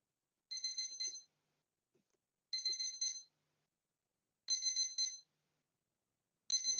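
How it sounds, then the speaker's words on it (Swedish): An electronic device beeps somewhere in a municipal council chamber, short high-pitched trilling bursts roughly every two seconds, clear and isolated against near silence. "Det är någonting som piper i KF-salen någonstans."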